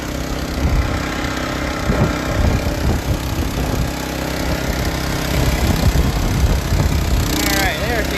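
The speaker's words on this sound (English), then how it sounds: "Got our pumps going." Salvage pump engines run at a steady idle-like drone throughout, near and continuous, while people talk over the noise during a seaplane salvage.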